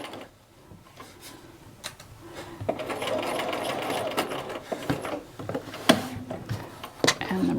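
Sewing machine basting a fabric flap pocket, short bursts of rapid mechanical stitching chatter separated by pauses and handling clicks, close and fairly quiet.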